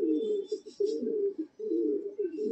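Kaldama pigeons at a pigeon loft coo close by in steady, rolling low phrases, one running almost continuously into the next with only a brief pause.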